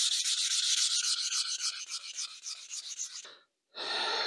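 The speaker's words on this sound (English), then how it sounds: "Now I'm going to give it a slight rub down" A shellac-sealed wooden wall plaque is rubbed down by hand in quick rhythmic scratchy strokes up close, which stop briefly and then resume in a smoother steady rasp.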